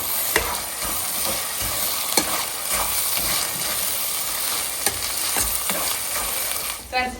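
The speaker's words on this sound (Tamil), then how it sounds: "தக்காளி சேர்ந்து வதங்கிட்டே இருக்கு" Tomatoes and ginger garlic paste sautéing in a pan for a seafood curry, a loud continuous sizzle broken by repeated scraping stirs and utensil taps, close and without talk.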